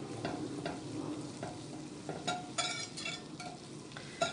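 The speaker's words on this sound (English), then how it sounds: "I'm gonna melt a quarter cup of butter here." A quarter cup of butter melting in a pan for a crepe sauce, giving a soft steady sizzle with faint pops and a few light utensil scrapes close by.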